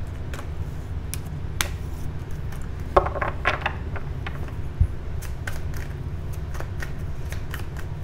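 Tarot cards being shuffled by hand during a reading, a steady papery riffling and rustling with occasional sharp snaps and taps, close and moderately loud with no talking.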